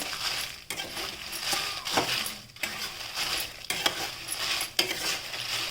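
Dry red Byadgi chillies roast in a pan, a steady crackle with dense rattling and scraping as they're stirred, punctuated by sharp clicks.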